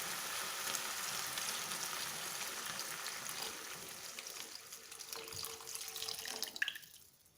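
Water is poured into a pan of curry made with Sasa coconut milk for Padang-style gulai toco, a soft, splashy trickle that fades and thins toward the end, with faint bubbling.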